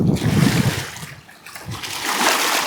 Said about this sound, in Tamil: தண்ணி எகிருது.